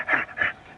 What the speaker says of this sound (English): hear dogs.